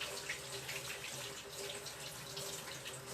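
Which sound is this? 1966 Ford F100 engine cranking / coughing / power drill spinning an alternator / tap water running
tap water running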